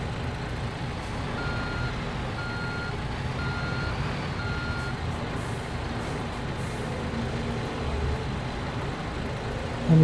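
A truck's reversing alarm beeps in a steady evenly spaced series over a constant engine rumble in the video game Construction Simulator 3, while the truck backs up to unload gravel, with no talk.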